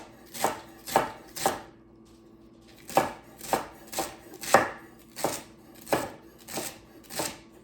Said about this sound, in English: I'm going to chop the celery into, you know, decent sized pieces